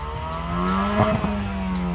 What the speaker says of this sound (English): it still is one of the best sounding 4-cylinder engines